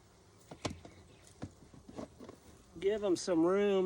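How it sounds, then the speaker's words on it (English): Honey bees swarm around an open hive while a super is added, a soft buzzing mixed with scattered handling knocks, followed by a voice talking over the hum. "oh yeah, the girls are everywhere."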